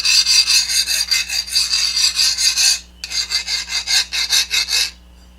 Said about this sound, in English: If the file will skate over it, then you know it hardened